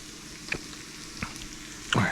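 Onions heating in a pan for steak and onions, a soft steady sizzle with a few louder crackles and pops, quiet and close, without talk.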